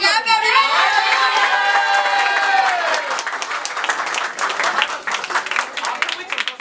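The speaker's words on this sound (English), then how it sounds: "Clap, everyone!" Audience applause at a celebration and felicitation event, a dense burst of many hands clapping with some cheering voices, loud and sustained throughout, thinning slightly toward the end.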